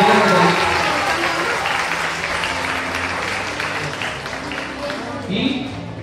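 An audience at a primary school graduation applauds warmly, a dense, sustained clatter of clapping that slowly tapers, with voices murmuring beneath it.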